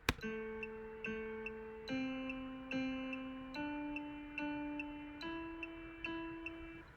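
A simple melody of plucked tones, each pitch struck twice before moving up, with steady ticking clicks keeping time.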